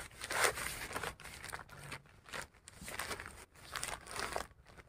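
A plastic polybag holding a honey jackfruit seedling is torn open by hand, giving a series of close, crinkly rips and crackles in short bursts with brief pauses between them.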